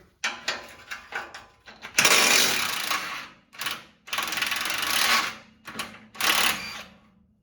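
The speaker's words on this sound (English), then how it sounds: "Remove these two 14mm bolts here." Mechanical ratcheting and wrench clicks while removing 14mm bolts from a 2007-2021 Toyota Tundra engine, coming in close bursts of rapid clicking separated by short pauses, with no talk.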